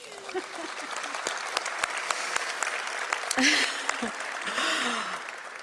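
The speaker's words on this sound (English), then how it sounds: "Pause for applause." Mourners at a celebration of life for a baseball coach in an arena applaud in a steady, sustained wash with crisp individual claps. A voice speaks briefly over the crowd early on and again near the middle.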